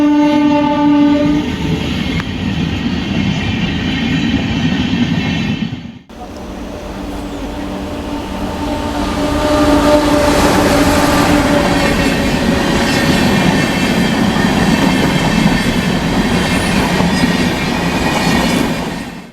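Express trains, including the Kerala Express, rumble past in India with a long, loud horn blast at the start, followed by a continuous roar and rhythmic clatter of passing railcars.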